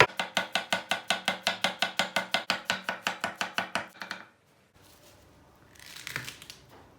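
A knife chops onions rapidly and evenly on a board, about two dozen quick strokes, then stops; faint rustling follows.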